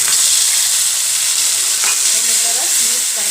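Tomatoes hit a hot tempering of curry leaves and asafoetida in a pan, setting off a loud, sustained sizzle and hiss with brief stirring scrapes, close and uninterrupted.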